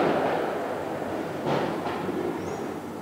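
Fireworks sound effect: dense, continuous crackling and popping with two brief louder bursts partway through, steady and fairly loud throughout, with no talking.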